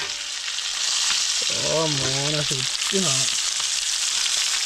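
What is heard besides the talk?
fish pieces frying in a pan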